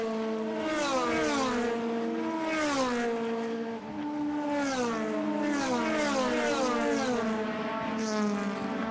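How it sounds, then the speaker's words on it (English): DTM race car engines at Zandvoort scream through repeated upshifts, with the pitch climbing and dropping again and again, loud and on board, and a brief dip in the middle. "Love being on board and love seeing those shots and hearing the sounds of the engines."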